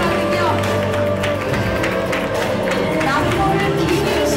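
At a Korean Netflix drama press event, an audience applauds an actress arriving for a photo session, with a loud, dense, continuous wash of clapping and crowd noise while a host speaks over it.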